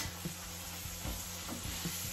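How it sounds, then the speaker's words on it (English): Lamb searing in a hot pan for rogan josh, giving a steady close sizzle with a few soft stirring knocks, no voices. "Basically, I'm searing this lamb. So I'm getting some nice, crispy, roasted parts in it."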